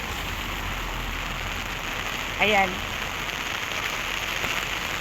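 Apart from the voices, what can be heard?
heavy rain falling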